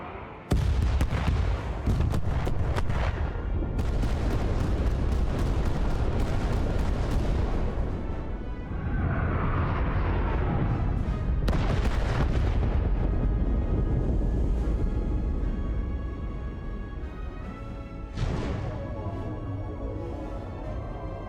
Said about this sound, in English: Fire! That's a lot of torpedoes.